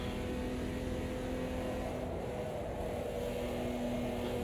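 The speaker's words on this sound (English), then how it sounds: "I'm just sitting in too high of revs" Race car engine in a racing video game held at too-high revs and overheating; a steady, droning high-rev engine tone runs continuously and fairly quietly with no talk.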